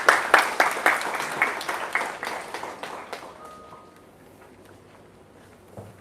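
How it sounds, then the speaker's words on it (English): A townhall audience gives a round of applause for an assistant manager. Sharp individual claps start loud, then thin out and fade over about three and a half seconds, leaving near quiet with one faint late sound. "Big round of applause to him."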